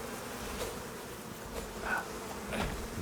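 Bees buzzing in the Icarus survival video game, a low insect drone with a couple of brief swelling passes as bees fly close, heard alone over steady game ambience.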